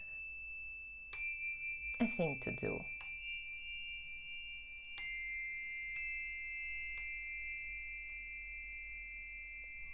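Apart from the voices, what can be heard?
chimes being played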